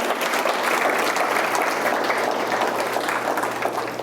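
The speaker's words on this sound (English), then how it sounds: "Give yourselves a round of applause for that" Steady applause from an audience at a school district State of the Schools event, continuous and fairly loud with dense clapping from many hands throughout.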